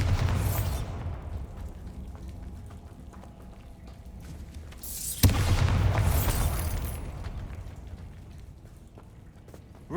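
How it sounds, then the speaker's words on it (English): Two deep Bombarda explosion spell blasts in the PS5 game Hogwarts Legacy, each a heavy booming burst with a long rumbling tail, set against a steady low ambient drone and spaced roughly five seconds apart. "Bombarda."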